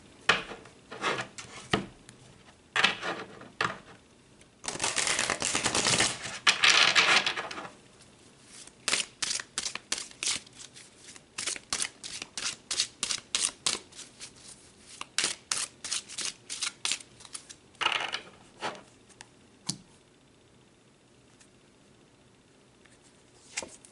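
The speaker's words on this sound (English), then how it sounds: "So let's pull some more cards." Tarot cards shuffled and pulled from a deck, heard as close, dry riffling and rubbing bursts in an irregular rhythm, with a longer dense shuffle early on and many short flicks and taps of cards afterward.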